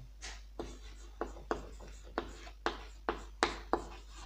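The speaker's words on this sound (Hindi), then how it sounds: "सबसे पहले हम बहुलक का सूत्र लिखते हैं" Pen strokes on paper while a math formula is written out, about a dozen short, evenly spaced scratching strokes, fairly quiet and close, with no talking.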